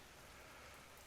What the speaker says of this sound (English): Rain starting to fall lightly outside the arena.